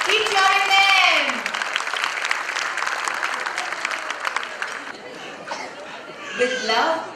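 Parents in an audience clapping and cheering for their kids at a school annual day celebration, dense sustained applause with chatter, while an amplified announcer's voice speaks over it at the start and end.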